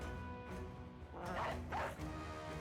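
Dogs bark in the Battle Brothers video game, two bursts of barking standing out over a busy, continuous game soundtrack.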